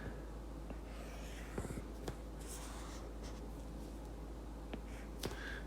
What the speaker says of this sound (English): let me draw some tick marks here